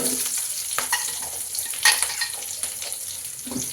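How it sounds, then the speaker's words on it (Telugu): Curry leaves, green chilies and onions frying in oil, a close crackling sizzle with irregular scraping stirs and a few sharper pops, no talking over it. "బాగా వేయించుకుందాం"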